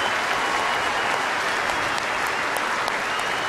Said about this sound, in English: Well, he'll get a huge round of applause, will Moya.